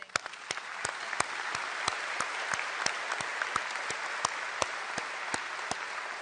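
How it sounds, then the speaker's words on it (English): An audience at a national defense night of a patriotic society's congress gives a round of applause, a dense steady clapping wash punctuated by a few sharp, regularly spaced claps close by. "I want to give you and your entire organization a round of applause."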